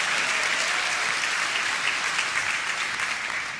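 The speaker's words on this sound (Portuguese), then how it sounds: "Dá uma salva de palmas ao Senhor" Sustained applause from a church congregation during a sermon, a thick, even roar of many hands clapping that tapers slightly at the end.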